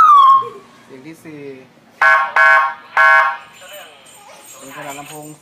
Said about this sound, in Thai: ไซเรนขนาด30 วัตต์เป็นตัวเล็กมี4 เสียงนะครับ